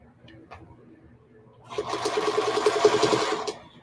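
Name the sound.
sewing machine stitching a feedsack hobo bag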